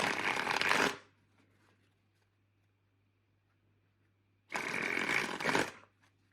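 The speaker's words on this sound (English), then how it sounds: "you're going to bend the card. And then basically your thumb is going to slowly release and open up." Playing cards bent under the thumb and released in a card flourish, giving two dense bursts of rapid riffling flutter about four seconds apart, close and fairly loud with quiet in between.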